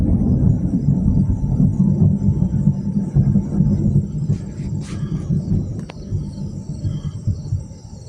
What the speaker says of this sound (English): the lightning storm started way earlier, but it's gotten really crazy